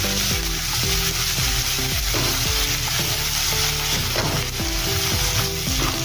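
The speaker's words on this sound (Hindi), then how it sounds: "अभी इसमें हम अदरक लहसुन का पेस्ट डालेंगे। इसको भी थोड़ा देर हम भून लेंगे।" Ginger garlic paste sizzles and fries in a hot pan with steady crackling, while a spoon stirs and scrapes rhythmically against the metal.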